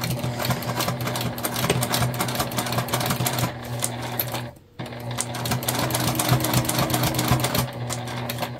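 A sewing machine runs steadily while stitching a fabric bag pack, a close, loud rapid mechanical whir with a brief pause midway before resuming.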